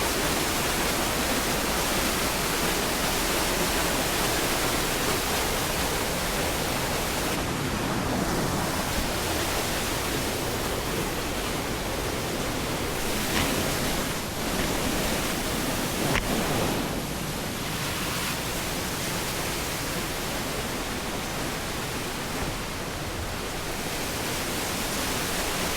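Antong Falls, a waterfall in Sison, Pangasinan, roars as a steady, broad rush of falling water that holds close and loud throughout, alone without voices.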